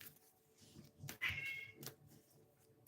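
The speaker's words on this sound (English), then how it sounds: "Those cats." A cat meows faintly, with a few short, high cries over a quiet room background with soft clicks and rustles.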